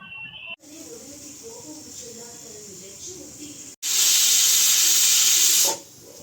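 A pressure cooker on the stove cooking dal lets out a loud, close, sustained steam whistle after a stretch of softer hissing, cutting off sharply after about two seconds.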